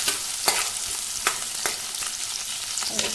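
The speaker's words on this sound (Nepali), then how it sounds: "प्याजलाई एकछिन भुटिन दिन्छु राम्रोसँग" Onions frying in a pan, a steady broadband sizzle with sharp stirring scrapes recurring roughly every half second, close and fairly loud, no voices.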